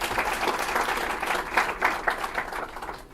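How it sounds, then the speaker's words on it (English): Audience applause at a small business growth event, steady clapping from a crowd with a few louder swells, sustained throughout. "Ladies and gentlemen, another round of applause."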